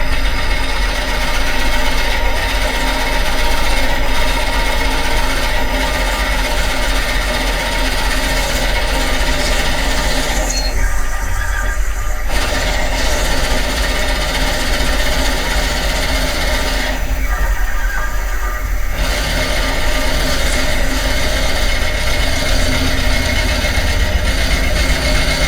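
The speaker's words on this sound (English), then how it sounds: "I'm just going to use a Forester bit to pre-drill" A Forstner bit bores into a wood turning blank on a running lathe, a continuous loud whirring grind with two short pauses where the cutting noise drops before resuming.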